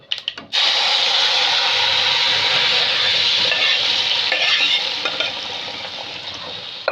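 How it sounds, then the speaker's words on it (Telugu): Toor dal for totakura pappu goes into a hot pan with a brief clatter, then a loud, steady sizzle carries on while it is stirred, easing slightly toward the end. "ఇప్పుడు మనది పప్పు వేసేసుకుందాం"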